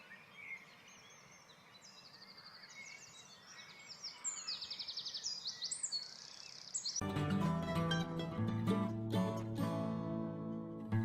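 Many birds chirp and sing in quick, bright bursts along a shaded forest trail, moderately near. A louder, dense sound with strong rhythmic hits takes over in the second half.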